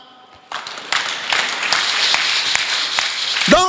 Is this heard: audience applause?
yes